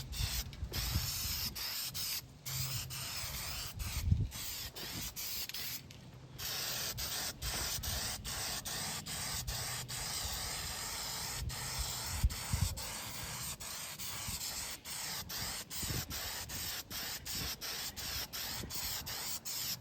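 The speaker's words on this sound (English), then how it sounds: "I have some other stuff I wanna spray" Spray paint hisses steadily from an aerosol can onto an arcade machine coin door during a restoration, in long continuous bursts with brief gaps between passes and faint handling noises.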